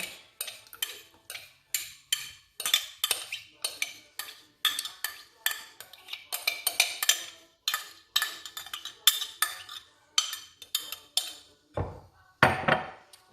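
A spoon or whisk clinks rapidly and rhythmically against a bowl while milk and yogurt are mixed for banana pancake batter, close and steady throughout with a brief clatter near the end.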